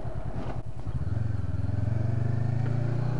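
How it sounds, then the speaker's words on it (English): A Honda CB500X motorcycle engine throbs loudly and steadily up close, its rhythmic low pulsing thrum continuing throughout with wind rush over it. "My first time ever riding my motorbike in Victoria"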